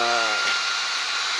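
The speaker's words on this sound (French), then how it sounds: "c'est vraiment pour vous faire la démo que j'aspire dessus" A Xiaomi Roborock H6/H7 handheld cordless vacuum runs on a Tesla Model 3/Y floor mat, giving a close, loud, steady high-pitched whine with a brief falling tonal hum at the start.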